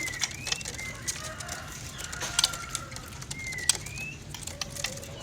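Caged songbirds, cucak cungkok and murai trotol, give faint scattered chirps and short whistles against a steady background hum, with cooing and clicks mixed in and no one talking.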